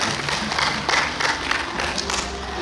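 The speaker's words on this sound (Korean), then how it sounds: "큰 박수 한번 부탁드리겠습니다." An audience at an outdoor Korean singer's concert on a permanent stage during a Chuseok holiday show claps steadily, a dense, close wash of applause with no break.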